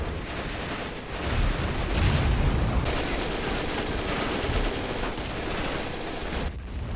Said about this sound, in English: lots of artillery firing. Wow, lots of weapons firing off.